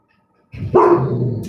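A dog lets out a loud, close bark after a moment of silence, a single sharp burst that trails off.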